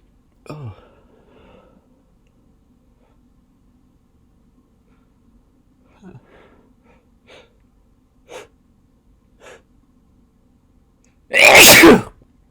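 Induced sneezes come one after another: a first sneeze, a few quiet breaths and small catches, then one loud, close, explosive sneeze near the end, with no other voices.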